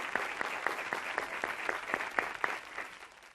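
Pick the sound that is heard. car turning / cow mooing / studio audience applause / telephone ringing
studio audience applause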